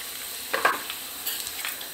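Food frying in a pan for Christmas Eve Italian snacks, a steady close hiss of sizzling oil with a few brief crackles and stirring scrapes, no talk over it.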